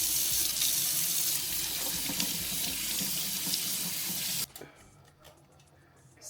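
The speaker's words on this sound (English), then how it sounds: "Let's start with a rinse." Kitchen faucet running into a sink to rinse crabs for New Orleans gumbo, a loud, steady rushing spray that stops abruptly after about four seconds, leaving only faint clatter.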